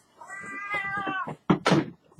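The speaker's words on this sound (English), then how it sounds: "And Safi, you are such a loud fucking cat." A house cat lets out a loud, drawn-out meow followed by two shorter, sharper meows, close to the microphone and heard alone.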